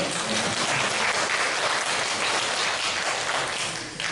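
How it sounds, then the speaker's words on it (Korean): A church congregation in Chicago claps in a dense, sustained round of applause inside the sanctuary, loud and even before tapering off at the end. "박수 치시려면 치세요."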